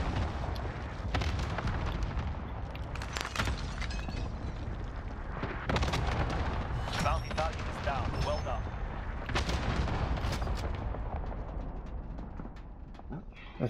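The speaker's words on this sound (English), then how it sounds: "He threw a grenade." Explosions and gunfire rumble through a military video game firefight, a grenade blast among repeated booms and shots, with radio chatter and voices talking over the dense, loud combat.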